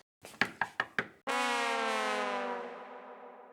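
Four sharp knocks land on a door in quick, even succession, then a long sustained tone swells in and slowly fades.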